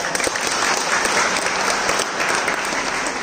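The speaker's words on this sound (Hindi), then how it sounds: "तो एक बार सर के लिए प्लीज तालियां बजाओ।" Loud, dense audience applause at a student talk given by a lieutenant officer, a sustained roar of many hands clapping evenly for several seconds, close and unbroken by voices.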